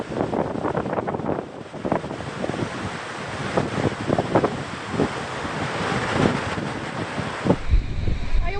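Storm-surge seawater surging through flooded streets along the Santos waterfront, a loud, continuous rush of wind and crashing waves buffeting the microphone, with voices talking over the roar throughout.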